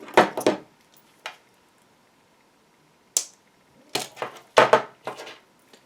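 A few sharp snips while trimming leather bracelet cord and wire, clustered in quick pairs and singles with quiet gaps between, close and crisp with no talking.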